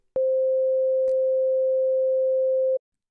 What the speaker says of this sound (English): and a high frequency sine wave